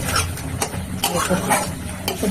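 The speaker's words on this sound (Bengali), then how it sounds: "এটা আরো কষাতে হবে, কষিয়ে কষিয়ে কষিয়ে কষিয়ে" Cauliflower with spices being stir-fried in ghee, the spatula scraping and stirring in steady strokes over a soft sizzle.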